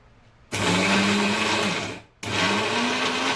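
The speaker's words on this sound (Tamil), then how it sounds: "ஃபர்ஸ்ட் இதை கொரகொரப்பா அரைச்சு எடுத்து வச்சுக்கலாம்" A mixer grinder jar coarsely grinding ingredients with a little cardamom powder, a loud close whirring motor in two bursts with a short pause between them.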